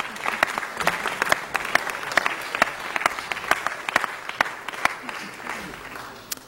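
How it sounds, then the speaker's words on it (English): Applause fills city council chambers during a celebration, a steady crowd clapping with sharp individual claps standing out over several seconds, with faint voices mixed underneath. "Round of applause, please."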